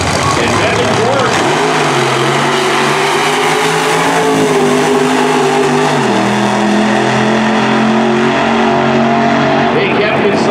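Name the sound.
nitro funny car drag racing run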